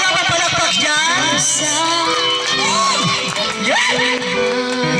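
A live variety-show audience cheers, whoops and shouts loudly and continuously, with children's voices and bursts of excitement over music, dense and close throughout.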